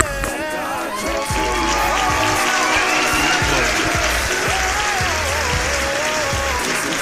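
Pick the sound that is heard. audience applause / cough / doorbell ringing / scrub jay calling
audience applause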